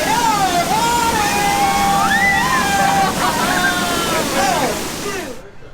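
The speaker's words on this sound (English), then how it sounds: "just in time so you can look like we're approaching the waterfall" Loud, steady rushing water from a waterfall as the Jungle Cruise boat ride nears it, with a voice talking over the roar throughout. The sound fades out at the very end.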